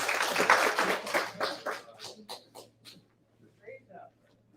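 A seminar audience claps for a speaker, a dense burst of applause at first that thins into a few scattered claps and fades out over a few seconds.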